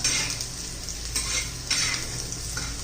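Chopped onions sauté in a pan for a roasted eggplant bharta, a close, steady sizzle with repeated scraping and clinking spatula strokes against the metal, with no voices.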